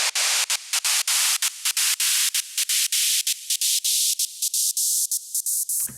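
Synthesized white noise from Harmor, chopped into rapid rhythmic gated bursts with short gaps, a rising filter sweep gradually thinning the low end, loud and close, ending in an abrupt cutoff.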